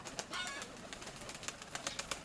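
A flock of pigeons on a hot day, flapping their wings and cooing near and far, with soft wingbeats and bird calls scattered through the short stretch and no talking.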